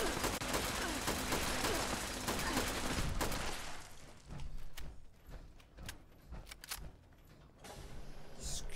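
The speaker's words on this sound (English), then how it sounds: "Let's shoot these ones to pieces." Gunfire in the video game Fallout 76: a dense, rapid burst of shots for the first few seconds, then scattered sharp single cracks and mechanical clunks trailing off at moderate distance.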